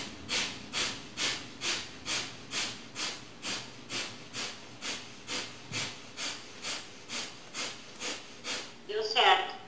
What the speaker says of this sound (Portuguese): Volta a postura de lótus e faz a respiração do fogo.